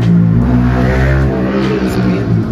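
A 150cc Honda BeAT ESP motorcycle engine revving hard on a dyno, a loud, steady, buzzy mid-pitched drone held at high RPM with slight wavering, no voices.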